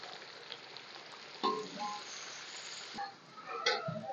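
Onions and garlic paste frying in a pan for bhindi gosht, a steady soft sizzle with a few louder bursts as food is stirred or added, heard alone without talk.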